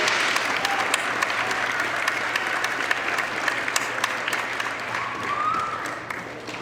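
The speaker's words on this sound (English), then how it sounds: "One last round of applause for our concert choir." A concert audience applauds a choir, with dense and steady clapping that stays loud and even for several seconds, as if heard from within the crowd.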